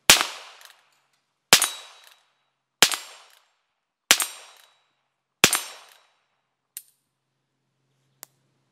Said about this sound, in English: I'm going to shoot a little bit easier target to hit